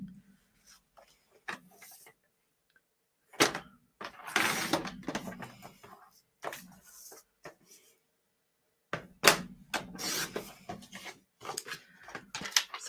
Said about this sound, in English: let's find my trimmer and trim it down